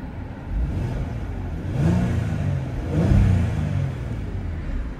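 A Porsche Cayenne engine runs up through two moderate revs from idle, each a rising mid-pitched rumble that swells and settles back, close and clear with no talking.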